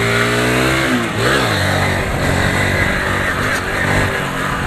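A Honda Fan 150 motorcycle engine revs hard for a wheelie, its pitch climbing and falling in loud, sustained surges close by, with a steady rough drone between the revs and no talking.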